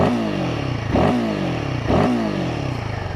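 A Royal Enfield Himalayan 450 single-cylinder motorcycle engine revs up three times in quick succession, loud and close, each burst climbing in pitch then falling back over a steady idle.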